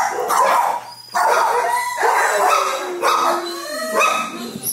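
Several dogs bark and yip at an animal shelter in Olathe, a big dog among them, with repeated loud, echoing barks and rising howl-like calls that overlap through the whole stretch.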